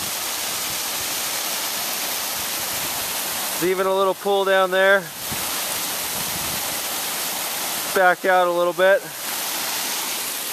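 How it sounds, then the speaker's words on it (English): Hot spring water cascades steadily down a rocky waterfall into a pool at Kirkham Hot Springs, a constant broadband rush that runs through the whole clip while someone talks briefly twice. "this hot water is coming down,"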